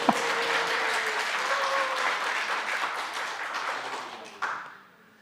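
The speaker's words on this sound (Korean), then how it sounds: "이때 박수 쳐야 됩니다." Sustained audience applause at a Korean church gathering, dense steady clapping from a crowd that fades out near the end, with faint voices mixed underneath.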